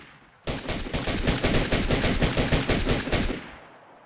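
Automatic gunfire from the DayZ video game on console: a loud, rapid, sustained burst of shots lasting about three seconds, then a fading tail.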